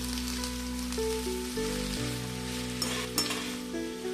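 Steady, close sizzling of curry leaves frying in hot oil, with a bright crackle and a few stirring clinks over a low background hum.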